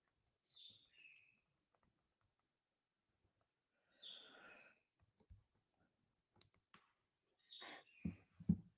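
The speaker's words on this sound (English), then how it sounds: "bloody birds in the background, annoying" Pet birds chirping indoors in a quiet room: three short, faint bursts of high tweets spaced several seconds apart, with a few soft clicks and knocks between.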